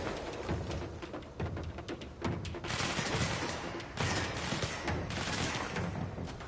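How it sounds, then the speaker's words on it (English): Sustained gunfire from the video game Control, a dense barrage of repeated shots and thuds that goes on and on, loud and close, with no talk over it. "Hey, who's still shooting at me?"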